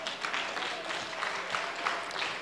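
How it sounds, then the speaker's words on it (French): A church congregation applauding during a sermon, a dense, fairly quiet patter of many hands clapping continuously, with room echo. "Si tu le crois encore, tu l'acclames."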